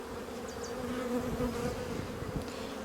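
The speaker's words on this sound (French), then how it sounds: "On voit même les abeilles nourrir les larves." Honeybees buzz steadily around an open hive frame holding young brood, a close, continuous drone with a few sharper individual passes near the start.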